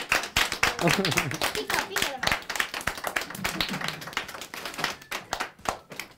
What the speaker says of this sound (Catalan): Li fem un fort aplaudiment